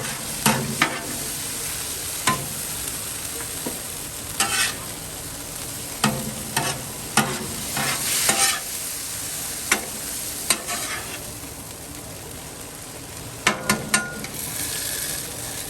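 Steady sizzle of salt, pepper, garlic and seasoning-coated steak meat frying on a Blackstone griddle, with repeated sharp scraping clicks of a spatula stirring it around, close and fairly loud.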